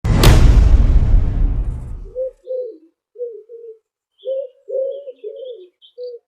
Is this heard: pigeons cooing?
yes